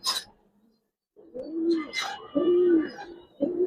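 Pigeons in a loft of Giribaz and coloring pigeons, cooing up close in several low, rolling phrases separated by short pauses, with no voices.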